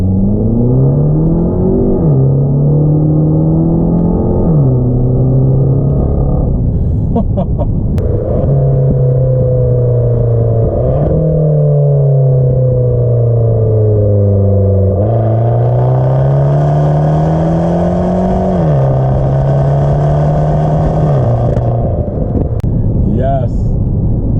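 Fiat 500c Abarth engine revving hard through acceleration pulls, with loud climbing revs and gear shifts in repeated sweeps, heard close from inside the car along with some talking.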